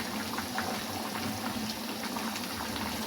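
Ginger and garlic paste hitting oil in a pan of chicken karahi, a steady, fairly faint bubbling sizzle that runs evenly throughout with no talk over it.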